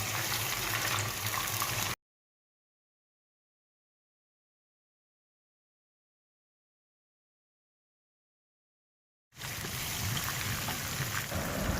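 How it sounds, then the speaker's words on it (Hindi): Chicken karahi ingredients frying in a pan until golden brown, a steady bubbling sizzle heard close for two seconds, then a long silence before the sizzling returns. "मैं इसको इतना फ्राई करूंगी जब तक ये बिल्कुल गोल्डन ब्राउन ना हो जाए"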